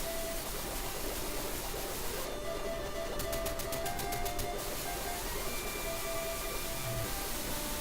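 Steady rushing waterfall ambience in Link's Awakening, a constant broadband wash with faint melodic game tones and a brief buzzing burst of rapid clicks partway through.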